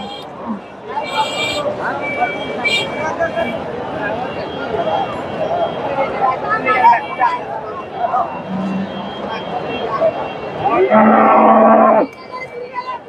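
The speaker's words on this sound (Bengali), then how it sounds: "এই যে সুন্দর একটা গাভী" A cow moos several times at the Dhaper Haat cattle market in Bogura, with one loud, drawn-out moo near the end, while people talk in the background.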